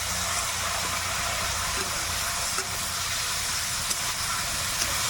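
Jackfruit curry with salt hisses and sizzles steadily in a hot pan just after water is poured in, a continuous, even hiss with no voices.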